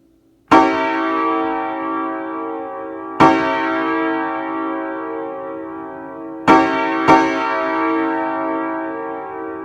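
Piano chords voicing the Nathan AirChime P5A five-chime train horn, four loud sustained struck chords with long ringing decay, the last two close together, played alone.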